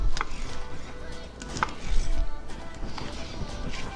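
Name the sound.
slicing smoked baby back ribs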